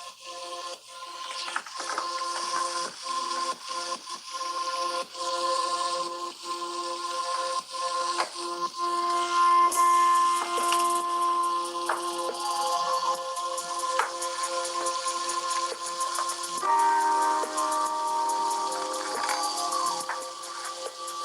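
Music with a background track plays through the stereo speakers of a ZTE Axon 10 Pro phone, sounding thin and a bit tinny at moderate volume, steady throughout with no talking.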